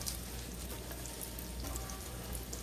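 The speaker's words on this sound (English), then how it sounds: "I'm going to use this grease that I used for the bacon just for some more flavor. And I'm going to saute the vegetables." Vegetables sauteing in leftover bacon grease in a pan, giving a steady, close, even sizzle and crackle throughout with no talking.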